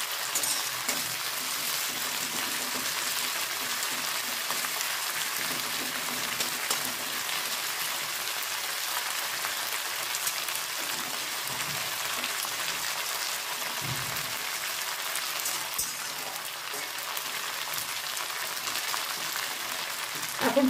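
Eggplant pieces, boiled first with turmeric, sizzling in oil in a pan, a dense continuous crackle held steady across the whole stretch, with no talk.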